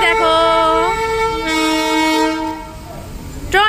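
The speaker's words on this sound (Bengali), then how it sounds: "কি সুন্দর না টয় ট্রেন" Darjeeling toy train sounds its horn with a loud, close, sustained multi-tone blast lasting a few seconds, pitch sliding slightly before it fades into engine and rail noise.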